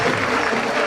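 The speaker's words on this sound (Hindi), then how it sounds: "इनके लिए एक बार जोरदार तालियां" An audience at a Delhi seminar breaks into loud, dense applause, a brief burst of many hands clapping together without pause.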